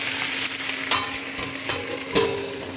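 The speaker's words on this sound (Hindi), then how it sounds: "दोनों को साथ में भूनेंगे, अलग अलग करके भूनने की ज़रूरत नहीं है।" Broad beans (seem) and another vegetable fry together in a pan over low to medium flame, giving a steady sizzle broken by three sharp stirring scrapes, close and moderately loud, with no talking.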